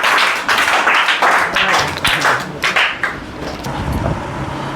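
Audience applause fills a hall at a speech competition, dense clapping swelling and easing in waves for several seconds, fairly close and loud, with crowd noise mixed underneath.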